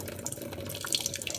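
Water from an aquarium canister filter draining out of the motor unit into a sink, a steady close trickle and splash with faint drips, no talking.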